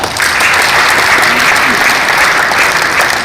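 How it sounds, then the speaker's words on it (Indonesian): Loud, dense applause from a large crowd at a provincial sports council meeting, sustained clapping filling the whole moment without pause. "Mari kita tepuk tangan untuk kita semua."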